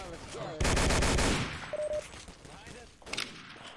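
Gunfire in a video game battle of a US cavalry division attacking a town, with a loud, dense burst of rapid shots, then quieter ambient noise and another short volley.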